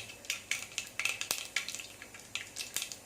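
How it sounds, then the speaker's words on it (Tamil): Mustard seeds splutter in hot coconut oil in a pan with rapid, irregular crackles and small pops, close and fairly quiet, with no voices. "கடுகு பொறிஞ்சிச்சு"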